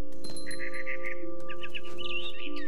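A mother bird calling in the video game What Remains of Edith Finch, bright chirping trills in short bursts over a steady low hum of game ambience, no voices.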